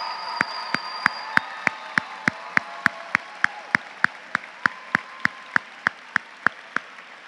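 During a high school graduation ceremony, a single person claps slowly and evenly in a spacious hall, with about twenty separate sharp claps at a steady pace. A faint hum runs underneath.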